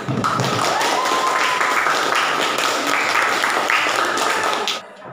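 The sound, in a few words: classroom applause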